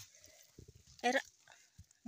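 A goat in a Kashmir village gives one short, wavering bleat, close by, with people talking and light rustling around it.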